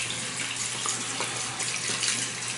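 A shaving brush still full of soap is rinsed under a running tap, giving a steady, fairly loud rush of water that is close and unbroken, with no voices.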